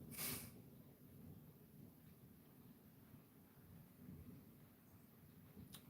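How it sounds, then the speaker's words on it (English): A low, distant rumble of thunder rolls on through faint rain-like hiss, with a couple of sharp close knocks at the start and end. "As you hear the thunder,"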